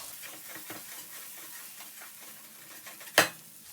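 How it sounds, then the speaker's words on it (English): Asparagus and garlic sauté in a pan with a faint, soft sizzle and light stirring, ending in one sharp loud clack of metal near the end. "Perfectly sauteed asparagus"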